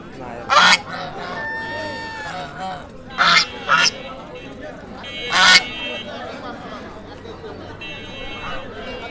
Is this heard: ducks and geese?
yes